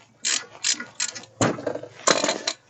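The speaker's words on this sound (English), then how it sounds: "So now we take the ratchet with the 14mm and we make these" A ratchet with a 14mm socket loosening brake caliper bolts on a car during a brake disc change gives five quick bursts of clicking, each a short run of pawl ticks, close and clear.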